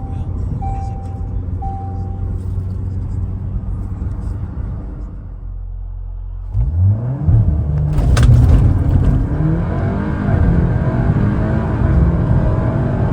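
A VW Golf Mk8 R with an unlocked, tuned DQ381 transmission idles with a low, steady rumble, then launches hard into a loud, rising engine roar that climbs through quick gear changes, close to the listener.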